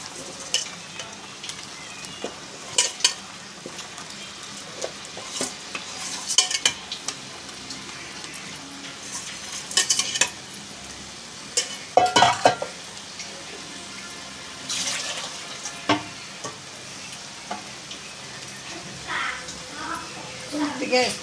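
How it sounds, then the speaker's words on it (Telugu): Marinated fish pieces fry in a pan with softened onions for a fish curry, with steady sizzling, scattered utensil clinks and stirring, and a voice talking throughout. "ఇప్పుడు మనం ముందుగా మ్యాగ్నేట్ చేసుకున్న చేప ముక్కలు అయితే అందులో వేసేసుకుందాం."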